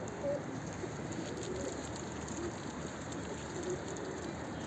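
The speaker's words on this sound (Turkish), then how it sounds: "Yağmur başladı ya." Light rain beginning outdoors with pigeons close by: soft steady patter beneath a few low cooing calls repeating at intervals.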